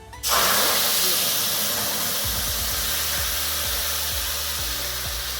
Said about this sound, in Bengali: এবার আমি এই তেলেই দিয়ে দেব মশলা এই যে পেঁয়াজ লঙ্কা পেস্ট করে রেখেছিলাম